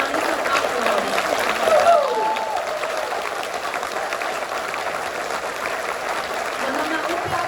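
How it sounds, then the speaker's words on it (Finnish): Audience applause after a Karelian youth dance group's performance at a festival, a steady, dense wash of clapping from a large crowd that holds evenly throughout. "Annetaan isot aplodit."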